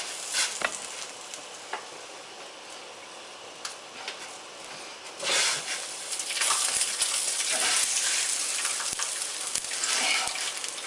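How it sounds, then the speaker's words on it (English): Water rolls at a boil in a cooking pot, ready for blanching tomatoes, a faint steady bubbling hiss with a few clinks and stirring bumps that grows louder and busier as the boil returns. "Because the water is now boiling."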